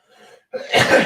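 A single sharp sneeze, close and loud, preceded by a brief soft intake of breath.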